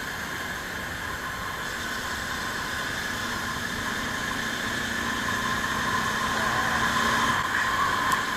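Steady engine drone and wind of a Bajaj Dominar 400 motorcycle while riding, a continuous even hum with no talking, holding the same level throughout and swelling slightly toward the end.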